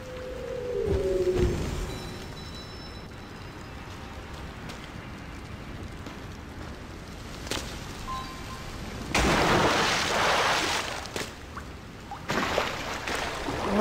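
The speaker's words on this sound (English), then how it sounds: "I'm gonna go turn off the rain." Rain falls in the video game Sky: Children of the Light, a steady hiss of rainfall with occasional louder gusts and splashes and a brief tonal call near the start.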